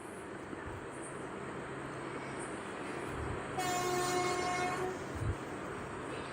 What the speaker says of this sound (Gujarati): ટ્રેન ઉપડવાની છે.